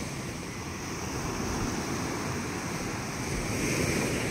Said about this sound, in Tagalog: Dito kami ngayon sa baybayin ng Sabang South Borongan Eastern Samar.